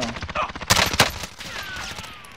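Gunshots ring out in Call of Duty: Modern Warfare Warzone: a quick ragged volley of close, sharp cracks, with two louder reports standing out, followed by a quieter tail of game ambience.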